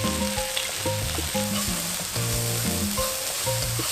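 Seasoned ingredients stir-fry in a hot pan, a continuous close sizzle broken by scraping, clattering stirs of a spatula against the pan.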